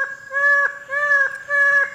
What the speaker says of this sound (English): In the early morning, 12-wired male comes and starts calling from his perch